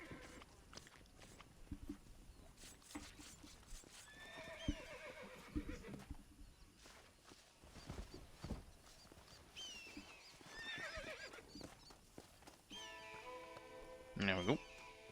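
Horses in the video game Red Dead Redemption 2 whinny repeatedly in loud bursts, with hoof clip-clops and someone talking between the calls.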